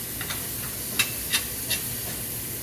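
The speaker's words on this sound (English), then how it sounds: "Stir the onions around a little bit." Onions with garlic salt hiss steadily in a cast iron pan while being stirred, with three light scraping knocks from the stirring near the middle. The sound is close and moderate, and no one speaks.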